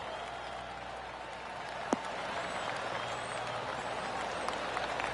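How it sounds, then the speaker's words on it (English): Gallery spectators at a golf course give a soft, distant smattering of polite clapping that holds steady across the moment, with one sharp tap standing out early and no voices over it. "Oh, golf clap."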